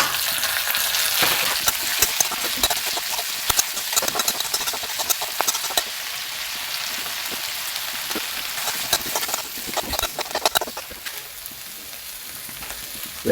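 Tomatoes fry in a pan with a steady close sizzle, and a utensil scrapes and stirs at irregular intervals throughout, no voices.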